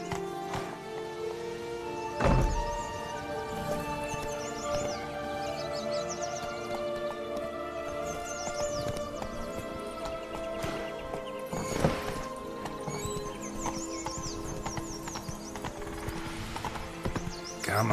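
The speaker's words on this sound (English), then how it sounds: "Whoa there, Roach." A horse in the video game The Witcher 3 trots with steady clip-clop hoofbeats, moderately near and continuous, over a layered ambient game background with faint birdsong and occasional louder thumps.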